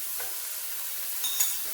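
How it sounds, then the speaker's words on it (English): Steady frying sizzle of saltfish in a hot pan, Jamaican style, a continuous crackling hiss with a few brief louder pops, close up and without voices. "We're frying up the saltfish."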